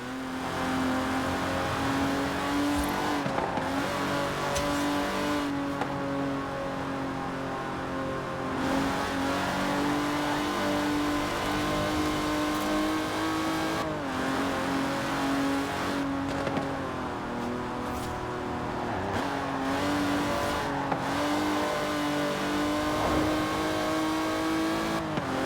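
A car engine in Forza Horizon 4, a luxurious and fast British car with Superleggera bodywork, drones loud and close with a rich harmonic tone, its pitch shifting slightly as it revs and settles throughout.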